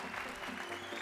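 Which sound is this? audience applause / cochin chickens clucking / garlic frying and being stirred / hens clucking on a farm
audience applause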